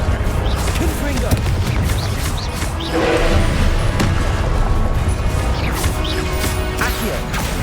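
Repeated Confringo spell blasts in Hogwarts Legacy go off as loud, crashing bursts over a busy, steady wash of combat noise.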